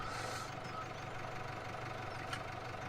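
A vehicle engine left idling outdoors, a steady low rumble with a faint knocking texture, quiet and unchanging, with a brief faint sound near the end.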